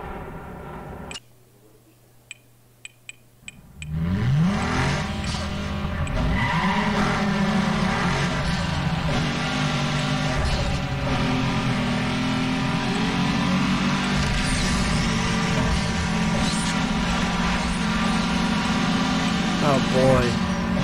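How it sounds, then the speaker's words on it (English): Car engines roar and rev during a drag race in Need for Speed Underground 2, with tires squealing; a few sharp clicks over near-silence give way to loud, sustained engine noise with rising pitch sweeps. "I'm going to do this drag race"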